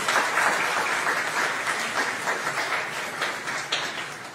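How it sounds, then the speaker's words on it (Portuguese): Dense applause from a congregation during a church sermon, a continuous wash of many hands that holds steady, then thins slightly toward the end, with no speech over it. "Você pode aplaudir o Senhor?"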